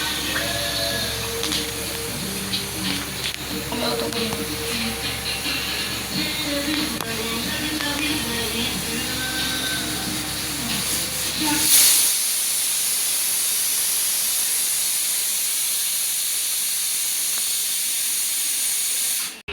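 A pressure cooker whistles loudly with a sustained hissing jet of steam while rajma cooks, the steady rushing blast lasting many seconds before cutting off abruptly, with a rougher, rumbling layer underneath during the first half.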